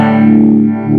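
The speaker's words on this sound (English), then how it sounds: "It's a univibe style pedal, and it creates sort of a kind of a sound." Electric guitar, a Strat, through a univibe-style modulation pedal on a pedalboard, a loud sustained chord with a slow throbbing, swirling warble, heard alone with no talking.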